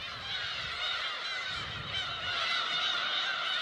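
Black-tailed gulls call continuously in a dense colony over an uninhabited island, a loud overlapping chorus of harsh, honking cries mixed with wind, with no voices.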